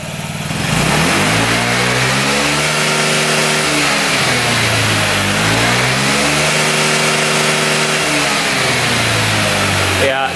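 A Honda Ruckus scooter engine with its carburetor refitted and the air box on revs up and down repeatedly, loud and close, rising and falling in several sweeping surges over a steady buzzing drone.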